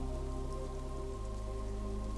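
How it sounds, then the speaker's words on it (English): Steady rain falling on a cabin roof in the woods, a soft continuous patter with an even hush and no break throughout. "The sound of the rain above you is steady and slow, a hush that never ends, a rhythm without edges."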